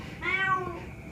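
A single close cat meow, clear and drawn out for about half a second over a quiet indoor background.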